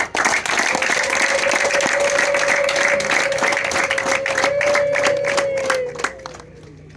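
Applause during a Rwandan bride-asking ceremony: a crowd claps steadily and densely for several seconds with a few brief vocal tones mixed in, then the clapping thins and fades near the end.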